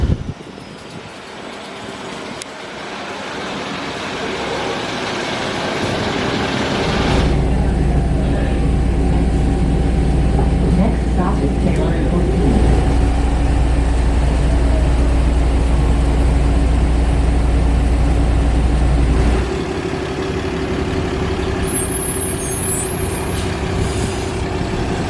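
A double decker bus on the Route 500 Rapid Express rumbles loudly with a deep, steady engine drone and a hiss like an air brake, rising into a sustained heavy roar mid-ride before easing back down.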